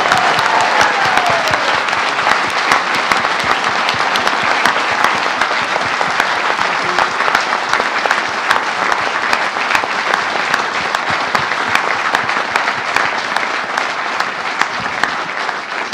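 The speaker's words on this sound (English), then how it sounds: "So, big round of applause." An audience at an evening event gives former footballer Mick Harford a sustained, steady round of applause, dense clapping that holds at an even level for the whole stretch without talk.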